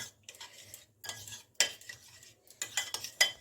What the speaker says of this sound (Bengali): আমি এগুলো সব একসঙ্গে মিক্সড করে নিচ্ছি।